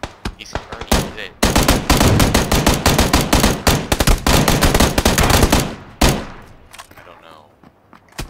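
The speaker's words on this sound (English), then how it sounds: "There's that shot from the other guy" Dense, loud bursts of automatic gunfire from PUBG, rapid shots packed together for several seconds with a few isolated cracks before and after, fading into a quieter tail.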